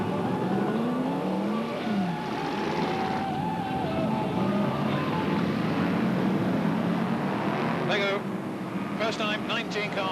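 BriSCA F1 stock cars racing at Northampton in a Grand National Championship qualifying round, a continuous loud roar of engines revving and passing, with a commentator talking over it throughout.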